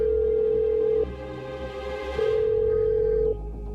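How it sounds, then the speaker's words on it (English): A telephone rings out on an outgoing call, producing two long, steady electronic tones separated by a pause, clear and close with no one speaking. "I started ringing Kelly"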